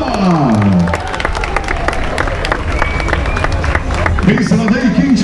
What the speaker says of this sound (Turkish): Bir kez alkışlar onun için 3. 3rd place Nida Eliz Üstünda.